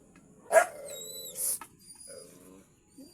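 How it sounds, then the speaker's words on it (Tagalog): A dog barks loudly at close range, one sharp bark followed by a drawn-out whining yelp and then softer whimpering yips, with no talk over it. "Paano kung kakaugas dito sa asong to, tahol ng tahol?"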